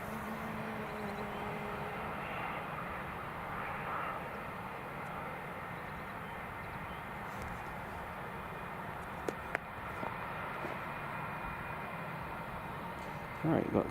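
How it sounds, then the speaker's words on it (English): A KLM airliner comes in to land at Newcastle International Airport, a faint distant jet rumble with a broad hiss that holds steady, marked by a few sharp clicks near the end. "we've got KLM just coming into land first"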